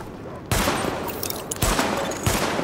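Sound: gunfire at targets in The Division video game

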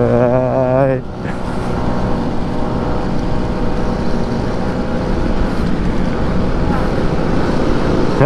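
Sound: Vespa scooter engine while riding

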